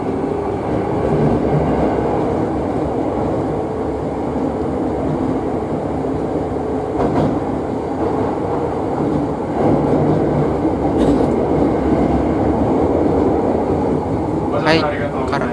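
A Hankyu Kyoto Line 7300-series limited express bound for Osaka-umeda runs near Karasuma with a loud, steady rolling rumble, a few sharp clatters and a rising tone near the end, while a voice carries on over it.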